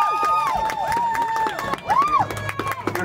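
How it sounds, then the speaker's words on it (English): An audience at an East Lyme Marching Band gathering claps and cheers in a loose, scattered burst, with shrill whoops and voices rising over the noisy crowd. "You're clapping"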